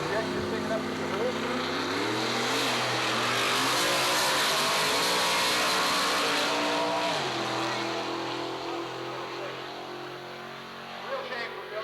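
Drag race cars, including a radical injected car, roar down the strip at a practice session, their engines rising in pitch through the gears in a loud sustained scream that fades slightly at the end, with a commentator talking over it.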